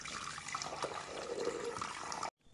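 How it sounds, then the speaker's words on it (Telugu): About 250 ml of chilled water poured into a mixing bowl, a continuous splashing pour that cuts off abruptly after two seconds, no voices. "250 ml వాటర్ పోసుకోవాలి."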